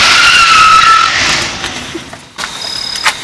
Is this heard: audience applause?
no